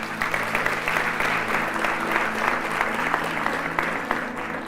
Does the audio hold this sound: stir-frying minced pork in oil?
no